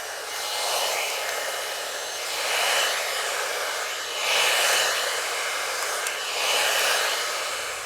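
A T3 AireBrush Duo blow-dry brush runs steadily while drying hair into a blowout, giving a loud, close, continuous airy whoosh that swells gently every couple of seconds as the brush moves, with no talking.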